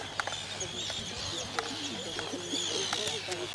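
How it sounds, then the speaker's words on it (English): Arctic terns on Vigur Island, Iceland give thin, squeaky calls in a scattered series over a soft outdoor background, with faint voices nearby. "Hear the terns, the squeaky sound."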